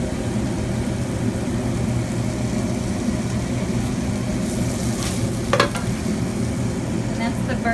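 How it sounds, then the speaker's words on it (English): Burger ingredients sizzle together on a grill in bacon grease, a loud, steady frying hiss with a brief scrape of a utensil partway through, in a busy burger restaurant kitchen. "we grill them all together in bacon grease"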